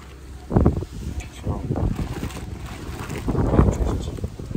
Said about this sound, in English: Oh my God, super windy.